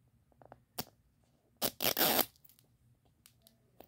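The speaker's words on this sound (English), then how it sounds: "let's see if the zipper will work on this one" A few short scratchy rips of a toy package's zipper being pulled open, faint handling clicks around them, with one longer tearing pull in the middle.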